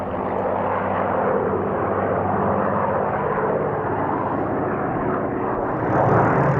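A Griffon-engined Supermarine Spitfire flying at the Duxford airshow, its powerful engine a steady, loud, rough roar that holds for several seconds with a slight swell near the end, with no voices.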